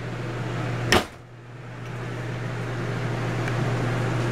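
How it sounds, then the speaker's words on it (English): A door shut inside a 2011 Palomino Puma camper trailer gives one sharp close thump near the start, followed by a steady low hum with no talking. "I'll go ahead and shut this door."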